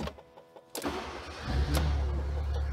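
A Fiat Punto GT 1.4 with a Bosch M2.7 engine computer cranks briefly and catches, then settles into a steady close idle.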